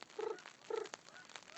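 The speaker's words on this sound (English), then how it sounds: "Northern pintail, you can hear them calling right now." Northern pintail ducks calling outdoors, two short, soft nasal whistles spaced about half a second apart, faint and somewhat distant against quiet background noise.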